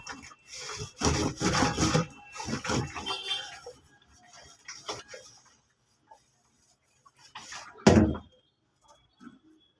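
Scrubbing something with a scrubber and Surf detergent, heard as bursts of rough rubbing strokes, loudest early on, then sparser, quieter scrapes with a single sharp stroke near the end.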